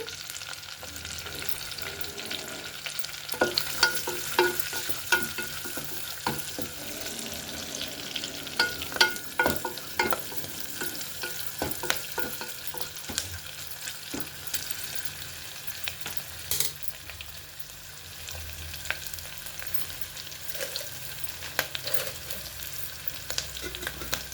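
Green chillies and curry leaves fry in hot oil for a biryani, a steady crackling sizzle throughout with sharp pops and spits scattered across it, close and moderately loud, no voices.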